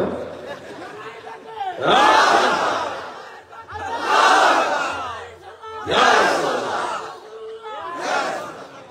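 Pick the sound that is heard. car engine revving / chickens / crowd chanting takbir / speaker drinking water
crowd chanting takbir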